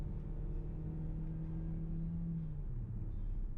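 A 2020 Ford Escape Titanium small SUV hums steadily from inside the cabin as its engine drops into third gear, a low droning rumble that shifts pitch downward near the end.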